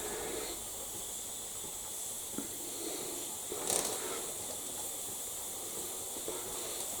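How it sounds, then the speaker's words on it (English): Steady, loud hissing of steam escaping under pressure from a pressure cooker, continuous throughout with a brief sharper burst midway and faint rattling underneath. "just to show you how the steam disappears if the pressure becomes too high"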